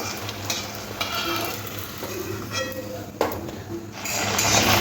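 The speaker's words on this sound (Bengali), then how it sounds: "এইভাবে সব আলুর পুরিগুলো সব ভেজে নেব কত সুন্দর ফুলে উঠছে" Potato puris deep-frying and puffing in hot oil, a dense, bubbling close sizzle with intermittent stirring scrapes and a sharp clink of utensils, the frying growing louder toward the end.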